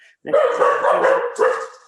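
Several dogs bark in quick, loud bursts close by, a steady run of yapping with a brief pause before a final volley, heard indoors in a home.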